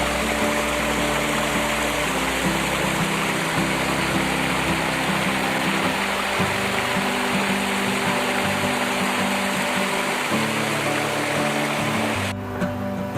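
A stream flowing past a spot in Mae Chaem, Chiang Mai, giving a steady, unbroken wash of running water throughout, with a faint low hum mixed in beneath it.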